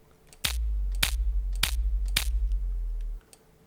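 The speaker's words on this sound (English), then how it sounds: "the main drum sound," Layered drum sample combining a main drum body with a transient click layer, struck four times at a steady pace, each hit a sharp crack over a sustained low boom, close and dry with no voices.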